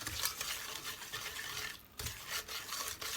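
Cookie dough made with melted butter is stirred in a bowl, giving close rhythmic scraping and swishing strokes with a brief pause midway.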